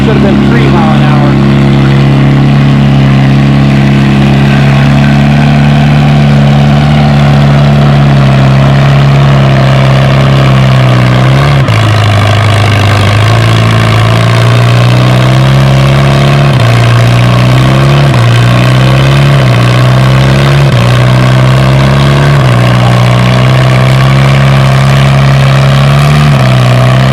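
A pulling tractor at a fall tractor pull roars under heavy load, a loud, continuous engine drone that dips and surges in pitch as it strains, with a commentator talking over it.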